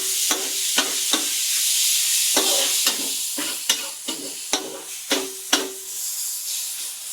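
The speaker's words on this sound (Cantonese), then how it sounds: "放豆豉落去炒。" Fermented black beans stir-fried in a wok with aromatics, a bright steady sizzle broken by about a dozen sharp metallic spatula clacks, spaced irregularly and growing more frequent toward the end.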